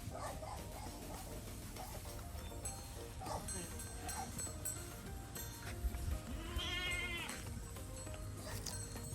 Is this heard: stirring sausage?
no